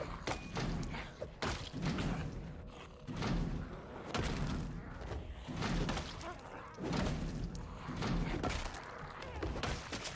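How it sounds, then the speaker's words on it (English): Zombies pounding on a garage door in Project Zomboid, steady repeated heavy thuds and bangs continuing throughout at moderate loudness, with no talk over them. "I'm gonna have to hear them banging on that door for the next 20 minutes."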